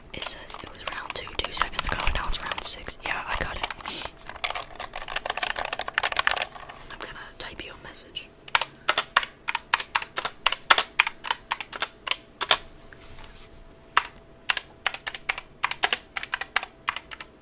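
Keyboard keys clatter in rapid bursts, dense and busy at first, then settling into sharp, separate clicks and short runs. The typing is close and crisp, with soft talk in places.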